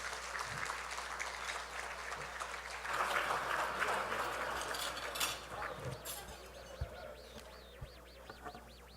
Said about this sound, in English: A big round of applause for Tessin, please.